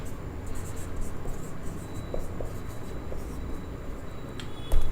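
A pen or chalk writes a definition by hand, producing soft, quick, close scratching strokes in an irregular rhythm, with a louder tap at the end.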